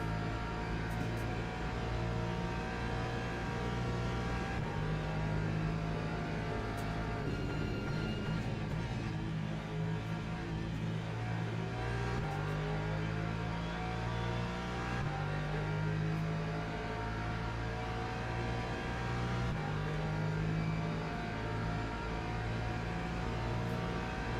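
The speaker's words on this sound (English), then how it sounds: "That McLaren is quick on the straight." McLaren race car engine in a racing video game, a steady loud drone with shifting harmonic pitch as it climbs and drops through gears, continuous throughout with no talking.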